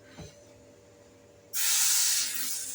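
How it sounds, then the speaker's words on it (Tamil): Mustard seed tempering poured into a roasted urad dal, coconut and raw mango chutney, bursting into a loud, bright sizzle that starts abruptly midway and holds steady to the end, with no talk. "டெம்பரிங் கடுகு தாளிச்சு கொட்டியாச்சு"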